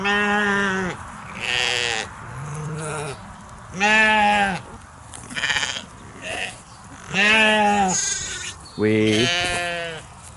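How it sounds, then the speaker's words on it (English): Lambs being herded by a working sheepdog on a farm during a lamb-viewing day bleat loudly and repeatedly, with several overlapping calls at close range. "here we are back out with the lambs and Goose"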